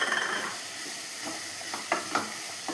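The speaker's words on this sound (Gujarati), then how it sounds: "આ બધું પણ આપણે સરખું મિક્સ કરી લઈશું" Boiled peas and sweet corn being stirred and mixed into vegetables in a pan: quiet scraping strokes with a soft sizzle and a few sharper spoon knocks toward the end.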